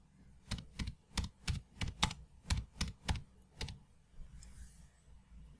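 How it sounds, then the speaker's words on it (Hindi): Keys clatter on a computer keyboard as custom HTML is typed into a WordPress search box, about a dozen sharp, close taps in an uneven rhythm, then quieter trailing clicks with no talk. "यहां सर्च में कस्टम HTML टाइप करेंगे"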